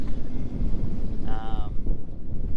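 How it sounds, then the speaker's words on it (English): Strong northeast wind buffets a fishing boat at sea in rough water, a steady low roar of gusts across the microphone, with a brief tonal whine or creak rising midway. "Wind was supposed to pick up out of the north, kind of northeastish, before Hurricane Aaron heads this way, and it has."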